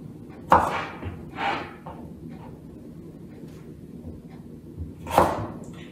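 A knife chops fresh organic ginger on a board, giving a few separate close thuds with quiet pauses between them.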